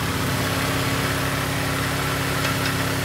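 A Peugeot 406 engine idling after a crankshaft seal replacement, a close, steady, loud hum with even low rumble throughout.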